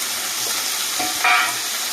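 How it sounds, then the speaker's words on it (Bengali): Chopped potato sizzles in a little hot oil tempered with chili and flattened rice, with a steady broadband frying hiss and a brief scrape of stirring near the end, close and without talk. "আলুটা দিয়ে সামান্য নাড়িয়ে সারিয়ে নিলাম"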